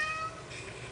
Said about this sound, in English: take care of my whiny cat, since you can hear him in the background